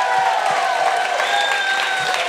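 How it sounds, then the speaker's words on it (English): A cruise audience gives a warm round of applause welcoming the band aboard, a steady wash of clapping with some cheering, with music or tonal sound running underneath. "huge round of applause"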